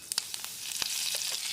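Curry leaves hit two tablespoons of hot oil with mustard seeds in a kadai for sambar, giving a steady close frying hiss scattered with sharp crackling pops.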